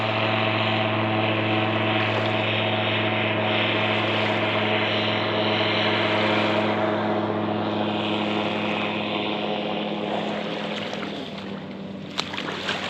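Airplane taking off over a lake while carp fishing, a loud, steady engine and propeller roar holding for the whole stretch and easing slightly toward the end, with no talk.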